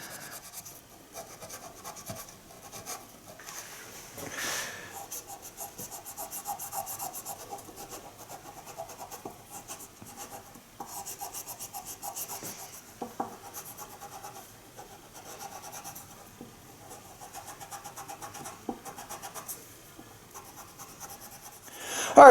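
Steady abrasive rubbing of a 180 grit fret eraser on guitar frets, continuous close scraping strokes with small bursts, no talking.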